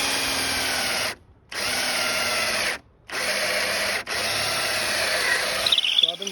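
A power drill bores into wood for an H brace on a farm, running loud and close in three long bursts separated by short pauses, with a faint ratcheting click near the end.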